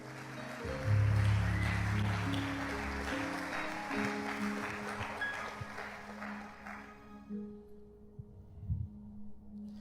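A church congregation claps during a worship service, a broad burst of clapping under sustained music that fades out toward the end, leaving near silence with a few scattered sounds.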